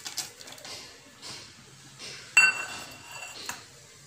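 Metal utensils clink against a pan as roasted nuts go into jackfruit payasam, with soft scattered taps and one sharper ringing clink midway, faint in a quiet kitchen.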